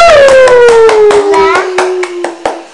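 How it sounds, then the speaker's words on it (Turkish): Applause from an audience comes as a run of evenly spaced, rhythmic claps, loud and close, while a steady tone slides slowly downward in pitch beneath them. "Alkış."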